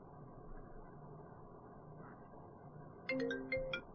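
A phone rings partway through a livestream of Batman: The Telltale Series, a few short bright electronic tones near the end, over a steady background of game audio.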